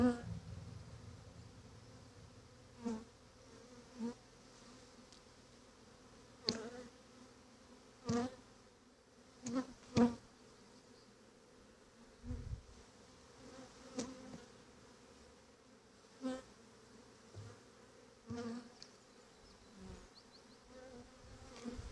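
A swarm of honey bees hums in a steady, fairly close drone, with individual bees buzzing past in repeated louder swells, no talk.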